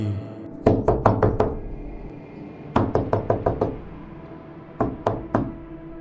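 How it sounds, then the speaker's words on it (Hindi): Knocking on a door for a spooky late-night story: three clear bursts of rapid knocks, five to six sharp raps each, separated by pauses, close and loud with no talking. "हर्ष दोबारा दरवाजा खोलने जाता है।"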